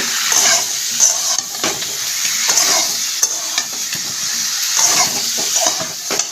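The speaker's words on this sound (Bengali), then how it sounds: "আবার একটু কষিয়ে নেব" Spices with salt and turmeric being sautéed in a pan give a steady, close sizzle broken by repeated scraping strokes of a stirring spoon against the metal.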